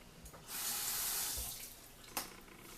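A tap runs water over a Clarisonic brush to wet it. The flow is a short, faint, steady hiss that is turned on and then off, with a small clack near the end.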